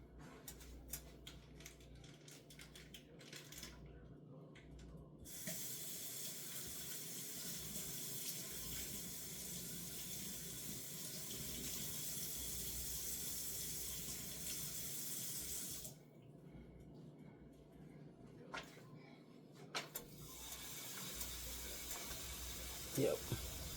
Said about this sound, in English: I rinse it off because it have that juices on there.